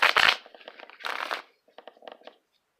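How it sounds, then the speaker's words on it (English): Tarot cards are shuffled close up in quick riffling bursts, a loud crisp flurry followed by a second burst and then softer, scattered card snaps before silence. "I'm just going to do one more shuffle"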